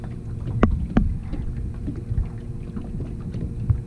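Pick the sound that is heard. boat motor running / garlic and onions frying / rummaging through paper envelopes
boat motor running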